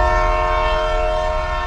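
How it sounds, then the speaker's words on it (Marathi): A train horn sounds one long, loud, steady blast that holds unbroken throughout, heard alone with no voices. "एका ट्रेनच्या हॉर्नचा लांबून आवाज"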